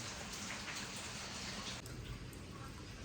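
Steady rain falls heavily and continuously, a dense even hiss of drops on surfaces with no voices.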